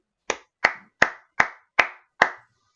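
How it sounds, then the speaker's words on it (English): Hands clap six times in a steady, evenly spaced rhythm during a film quiz podcast. Each clap is crisp, close and loud, with nothing behind it. "he's clapping, I promise you"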